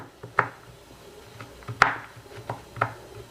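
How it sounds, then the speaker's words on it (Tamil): A knife cuts chocolate into small pieces on a board, giving three or four sharp, separate chopping knocks with short pauses between them, close and clear, with no voices. "இந்த மாதிரி சாக்லேட் இருக்கு இல்லையா, அதை வந்து நல்லா ஸ்லைஸ் பண்ணி எடுத்துக்கோங்க குட்டி குட்டியாக"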